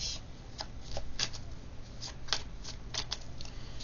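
Playing cards being shuffled for a card reading, a steady run of soft riffling flicks and slaps close by, with no voices over it.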